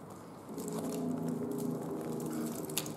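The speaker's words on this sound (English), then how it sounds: "we'll start with all the chain noise." Continuous light metallic jingling and rattling of a Chanel Wallet on Chain handbag's chain strap, close up, steady for about three seconds with small clinks throughout.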